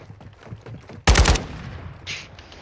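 A short loud burst from an AK-style rifle in a video game, a single rattling volley of about a third of a second that cuts in after quiet background sounds.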